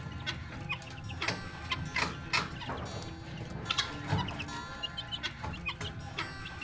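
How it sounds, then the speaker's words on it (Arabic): Hungry Vietnamese chickens cluck and squabble over food close by, with a busy, irregular run of short clucks and scratchy bursts. "فجعانين قوي وبيتخانقوا زي ما انتوا شايفين على الاكل"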